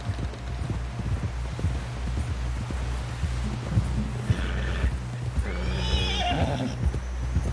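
A horse in the Western video game Red Dead Redemption 2 whinnies loudly twice over a steady clip-clop of galloping hooves, the hoofbeats rhythmic and close, with a low ambient hum underneath and no voices.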